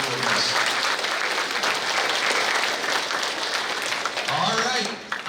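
Steady applause from a crowd at an awards day fills the whole stretch, loud and continuous, with a voice speaking faintly beneath it.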